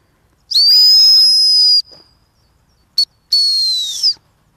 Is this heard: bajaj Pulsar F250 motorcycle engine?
no